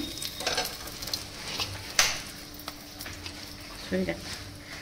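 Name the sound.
dried red chilli added to hot oil with whole garam masala, sizzling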